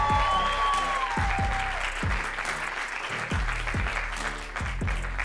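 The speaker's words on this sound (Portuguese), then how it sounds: "aproveitem esse vosso aplauso e recebam Ruben Branco" Audience applause at a stand-up comedy show, dense clapping continuing under loud thumping music beats and a rising tone, with the crowd noise steady throughout.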